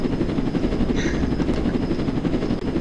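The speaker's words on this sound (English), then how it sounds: "I'm actually in one of the steering helicopters." A helicopter in the Roblox game Jailbreak fills the clip with steady, rapid rotor chop, loud and close, with a constant droning hum beneath it.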